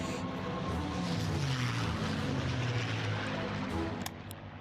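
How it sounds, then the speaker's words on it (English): Light bomber aircraft engines in the strategy game Hearts of Iron 3, a steady propeller drone with a slowly falling pitch, continuous and fairly loud throughout. "Ground attack, light bombers."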